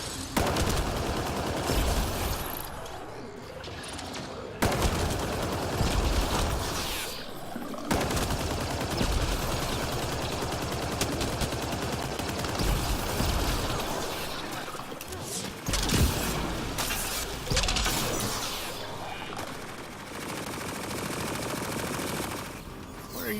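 Dense, continuous gunfire from a firefight in Mass Effect Andromeda, with rapid bursts and sharp shots rattling for over twenty seconds with only brief pauses, voices speaking over the fight.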